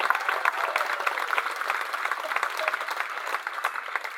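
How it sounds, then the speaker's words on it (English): Studio audience at a cooking competition gives the contestants a sustained round of applause, an even, moderately loud patter of many hands clapping. "Let's give a massive round of applause for Captain Hugh and"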